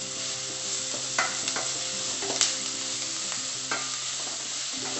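Onions fry and sizzle in a pan for a masala dosa filling while a utensil stirs them, producing a steady close hiss with scattered scraping clacks and no talking.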